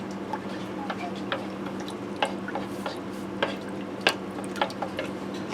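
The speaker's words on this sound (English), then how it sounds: "I'm just breaking up my mushroom soup here, mixing my spices in." A spoon stirs and breaks up mushroom soup mixed with spices for a broccoli ham casserole, producing scattered soft clinks and scrapes over a steady hum.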